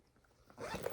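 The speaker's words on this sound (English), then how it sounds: "That zipper runs like butter." The zipper on the center zip section of a navy, Italian-made Veripel handbag is drawn close up: a soft start, then a smooth, steady rasping pull for just under a second.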